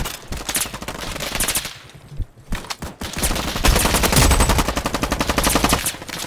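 Rapid automatic gunfire in a Roblox shooter game, bursts of shots firing almost continuously with a brief lull midway, loud and close with no talking.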